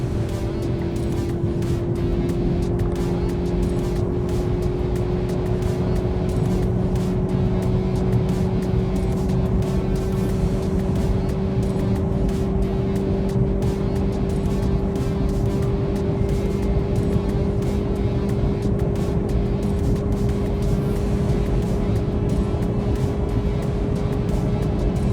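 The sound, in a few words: Volkswagen Golf GTI accelerating on a top speed run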